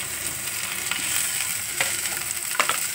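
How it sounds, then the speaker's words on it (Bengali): Green chillies, cashews and raisins fry in a pan with a steady, close crackling sizzle and a few sharper pops and stirring scrapes, no voices. "আর এই যে কাঁচা লঙ্কা দিচ্ছি, এই ভাজা হচ্ছে, সব কিছু ভাজা হচ্ছে।"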